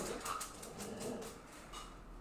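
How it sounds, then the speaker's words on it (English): Dogs bark faintly in the distance behind a board game being played on a livestream, a loose series of soft, muffled yelps spread across the moment with no one speaking. "Loud dogs?"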